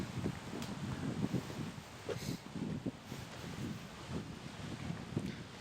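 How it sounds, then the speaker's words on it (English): Strong wind gusts across an outdoor golf course during a tournament round, buffeting the microphone in uneven rushes with rustling leaves, loud and close with no talking. "You can definitely hear that wind's gusting it"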